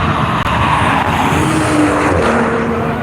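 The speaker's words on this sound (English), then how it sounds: "Here comes the Lotus completing his first lap" Lotus race car at World Wide Technology Raceway, its engine roaring loudly and continuously as it finishes a lap on the front stretch, with faint tyre noise, the sound close and sustained.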